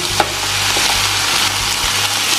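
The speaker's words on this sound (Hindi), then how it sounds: "भाई मैं तो तड़का लगा रहा हूँ उसको, भी अच्छे से मिक्स हो जाए, और जीरा भी।" Cumin seeds tempering in hot oil in a pan for jeera rice give a steady, close sizzle, with a few faint stirring knocks through the continuous hiss.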